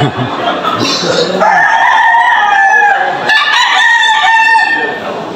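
Roosters crow loudly and close by at a cockfighting arena, two long drawn-out crows following each other with some clucking and background crowd murmur.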